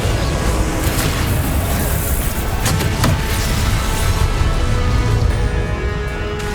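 Fiery spell blasts in Hogwarts Legacy, a loud continuous roar of explosive bursts with sharp crackling hits layered over dense rumbling game action, no voices.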